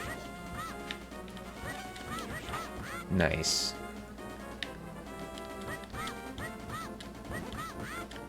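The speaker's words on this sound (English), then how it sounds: "Let's get those birds before they get us." Bird enemies in Zelda: A Link to the Past squawk in a brief burst amid busy retro game music, with someone talking over the gameplay.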